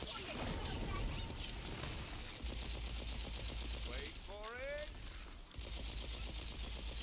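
Rapid-fire gun in the looter-shooter Tiny Tina's Wonderlands rattles in steady automatic bursts under busy game effects and a swooping magical tone, continuous and moderately loud throughout.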